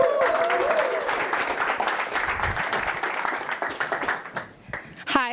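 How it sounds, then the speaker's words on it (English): Crowd applause at a Google for Startups Cloud AI Accelerator demo day, thick steady clapping from a room of listeners that thins toward the end, with brief voices and a whistle-like tone early on. "let's all give a huge round of applause to Stephanie with Vadi."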